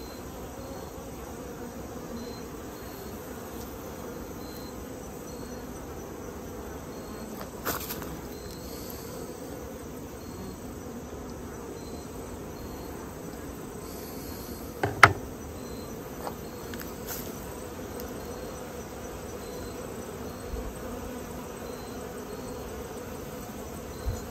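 Honeybees drone in a steady, low hum around a swarm trap holding a queen, the buzz continuous and close with a few brief knocks and taps breaking through.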